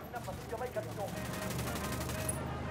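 Gunfire crackles in the tactical shooter Ghost Recon Wildlands, rapid automatic bursts layered into a steady dense clatter at moderate level, with voices partly underneath.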